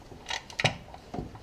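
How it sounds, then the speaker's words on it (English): A wrench tightens the oil drain plug on a VW Golf Mk4 1.9 TDI, giving a few faint, quick mechanical clicks at close range. "We're gonna tighten it up"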